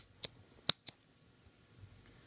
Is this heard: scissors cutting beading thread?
yes